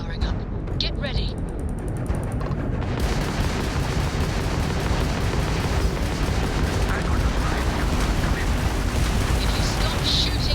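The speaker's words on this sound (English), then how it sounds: "If you stop shooting at us, we'd be more than happy to respond." Spaceship weapons fire at the player's ship in Starfield, a dense, continuous roar of blasts and rumbling impacts, loud throughout, with a voice speaking over it.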